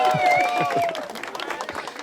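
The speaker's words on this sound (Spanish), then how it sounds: "aplausos digitales" Applause sound effect added in editing to a podcast episode, a brief burst of crowd clapping with a cheer at the start that thins out after about a second.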